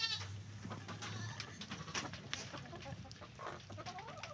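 Chickens clucking and squawking nearby, a busy scatter of calls with a low hum underneath and no talking.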